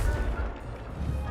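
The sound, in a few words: Confringo spell blast from video game Hogwarts Legacy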